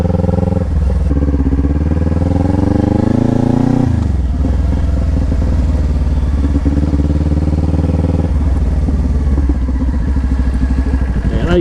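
Motorcycle, an automatic bike, ridden at low speed with a steady engine drone that rises, dips sharply, then settles into an even rumble, loud and close throughout.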